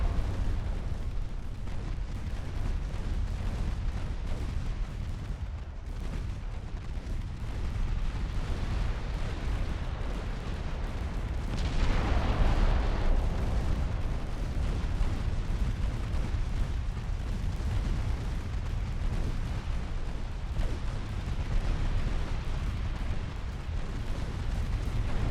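Warship guns firing in the naval game Ultimate Admiral Dreadnoughts, heavy booming salvos over a constant low rumble of battle, with one stronger, sharper blast near the middle and scattered distant reports.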